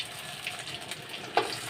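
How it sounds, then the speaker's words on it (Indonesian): Tempeh frying in a pan with sambal in a small home kitchen, a steady soft sizzle throughout with a brief louder crackle or stir near the end. "Nah ini udah mau diangkat, goreng tempe pakai sambal"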